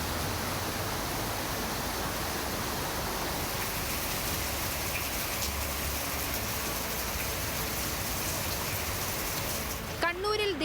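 Heavy monsoon rain pours steadily near the Chaliyar river in Kerala, a dense, unbroken hiss of water falling hard on surfaces, loud and constant until a sudden cut.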